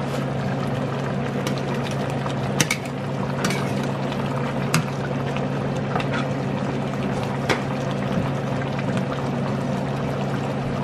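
Chicken broth is poured into a pot of beef mechado, a steady low liquid stream running throughout with scattered small clinks and taps.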